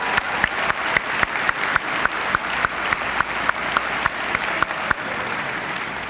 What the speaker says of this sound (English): Everyone, please join in for a round of applause for our faculty.